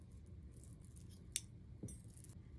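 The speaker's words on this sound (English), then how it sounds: "I'm going to grab my yarn here, my same color yarn, and I'm going to cut a few feet of it." Scissors snipping a length of crochet yarn at close range, one sharp quiet click followed by a softer second cut in an otherwise near-silent room, no talking.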